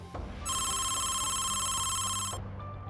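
A phone rings with a bright electronic trill lasting about two seconds over faint background noise, then stops.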